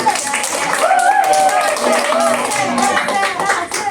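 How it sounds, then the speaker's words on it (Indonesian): Hand clapping from students in a vocational high school classroom, brief uneven claps mixed with voices talking over them throughout. "Tepuk tangan dulu."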